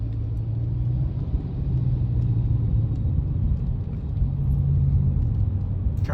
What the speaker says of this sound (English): Like some kind of military vehicle.